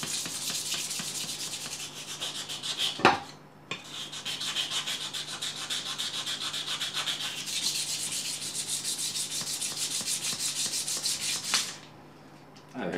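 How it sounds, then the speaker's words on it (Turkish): A rusty steel knife blade is sanded by hand with 1200-grit sandpaper: continuous close rasping strokes with one brief pause early on, heard alone and steady throughout. "tekrardan bir 1200 zımpara vuralım"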